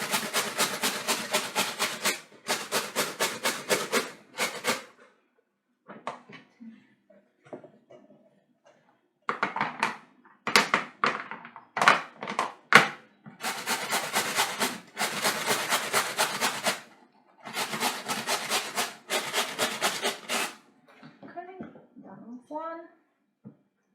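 Potatoes for Polish potato pancakes are grated fast by hand on a grater without a guard, in bursts of rapid rasping strokes. Short pauses separate the bursts, and someone talks during the gaps.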